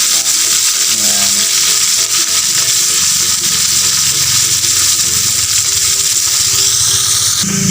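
Kanduli fish frying in hot oil, a loud, close, continuous sizzle with crackling spatter and faint clinks of a utensil, with no talking.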